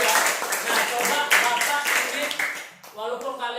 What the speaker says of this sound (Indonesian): beri tepuk tangan buat kelompok Miranda